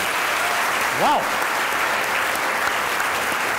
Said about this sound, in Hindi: तालियां होनी चाहिए यार।